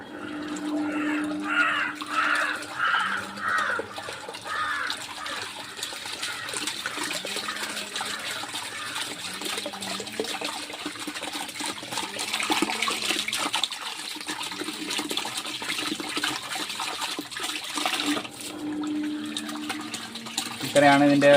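A SUNSUN JQP-3000 submersible aquarium power head pump runs in water, giving a steady churning, bubbling water wash throughout. Someone talks over it at moderate level.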